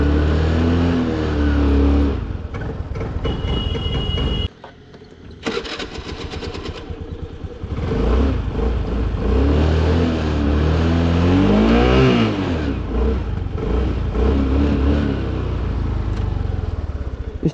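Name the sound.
vehicle engine started and running after refuelling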